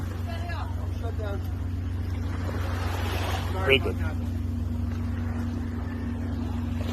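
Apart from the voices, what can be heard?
motorboat engine running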